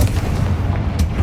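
Confringo fire spell exploding in the video game Hogwarts Legacy, a heavy booming blast with a rumbling low tail lasting about a second, loud and close with no talk.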